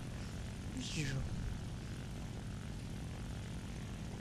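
A La-5FN propeller fighter in War Thunder: a steady, droning piston engine with propeller hum, fairly faint and continuous, with a brief rising whine near the start.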